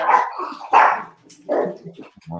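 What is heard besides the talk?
dog barking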